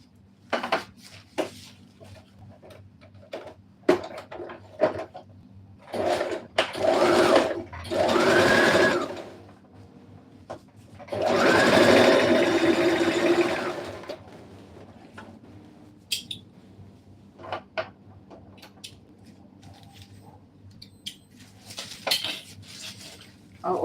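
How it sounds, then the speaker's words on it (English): A sewing machine stitches a dress in two sustained runs, one short and one longer, separated by quiet handling clicks and small clinks of fabric and tools nearby. "And I'm going to sew here like this."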